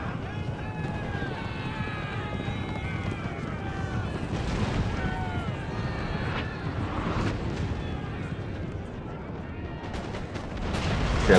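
Gunfire and artillery rumble through a video game battle, with dense, continuous booms and crackling shots at mid-distance and scattered tonal effects above them. The din builds toward the end.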